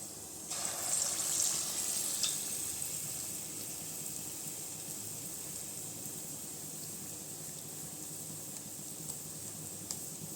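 Bonda batter frying in hot oil gives a steady, soft sizzle with a brief brighter burst near the start, continuing evenly and fairly quietly without any voices.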